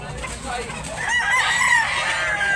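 Roosters crowing at a chicken market in Tabunok, Talisay, Cebu: one loud, close drawn-out crow rising and falling over a background of clucking fowl and faint crowd murmur.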